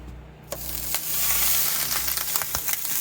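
A tablespoon of butter hits a hot griddle inside a camping trailer and breaks into a loud, steady, close sizzle, with a few small taps and crackles over the hiss.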